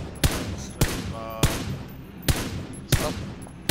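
Gunfire in the video game PUBG comes as five evenly spaced, loud, sharp shots with short ringing tails. They sound close, over a low rumbling game background.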